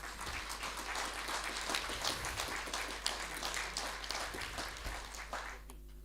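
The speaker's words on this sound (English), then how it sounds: "So I'd like you to give a round of applause to the fact that these people are prepared to devote" Applause at an AGM of the SAIA auction institute, a steady round of clapping from a seated room that holds evenly for about five seconds before thinning out.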